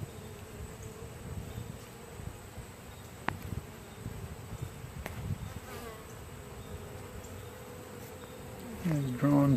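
Honey bees buzzing around an open hive during a midsummer inspection, showing a super with drawn comb; a steady, close insect drone runs throughout, with a few brief handling knocks and a louder burst near the end.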